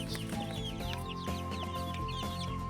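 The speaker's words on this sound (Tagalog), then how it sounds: "Yung mga sisiw na malalaki na ilalagay ko dun sa scratch pen na may screen" Well-grown chicks in a screened scratch pen, a dense close chorus of overlapping chirps and soft clucks in a warm farm setting.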